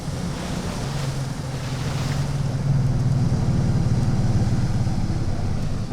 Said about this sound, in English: The waves are breaking on Ningaloo Reef